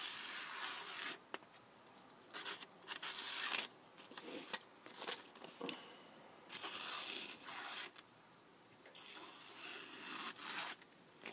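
A ZT 0450 Sinkevich knife with a hand-sharpened S35VN steel edge push-cutting through material, giving short, soft, dry rasping and tearing strokes, close and quiet, repeated about a dozen times with brief pauses between.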